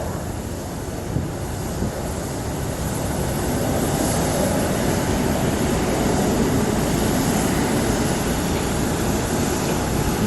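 A jet airliner taking off at night from Phoenix Sky Harbor International Airport, a loud sustained broadband engine roar that holds steady and slowly swells throughout, with no talk over it.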